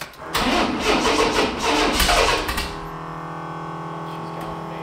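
A turbocharged AWD Chevy S10 truck cranks hard for a couple of seconds with a loud, busy roar, then settles into a steady idle with a low hum, close by and without talk.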